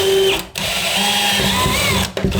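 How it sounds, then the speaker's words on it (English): A power drill whirs steadily and loudly while drilling during a shower installation, pausing briefly twice as the bit bites in, close by with no talking. "We're going to drill a second hole next to it."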